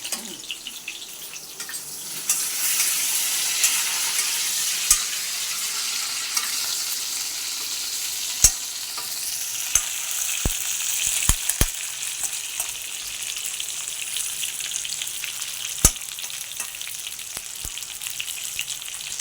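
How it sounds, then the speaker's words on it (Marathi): Stuffed brinjals frying in oil in a pan, a bright steady sizzle and crackle close by, with a few sharp clicks and taps of utensils scattered through. "भरलेली वांगी अशी तेलामध्ये छान परतून घ्यायची लालसर"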